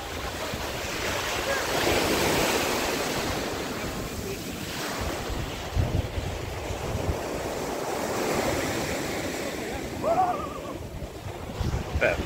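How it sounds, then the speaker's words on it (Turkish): Waves wash steadily onto Akçakese beach near Şile, Turkey, with a broad roar of surf, mixed with gusts of wind buffeting the microphone. "Akçakese plajı gördüğünüz yer. Böyle bir denizi var."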